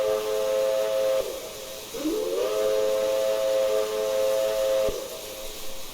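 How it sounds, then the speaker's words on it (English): The secondary whistle of an LNER A3 4-6-2 Flying Scotsman steam locomotive in Train Simulator Classic blows a steady, hissing chord of tones, drops out briefly, then sounds again in a long sustained blast before cutting off. "B for the secondary whistle."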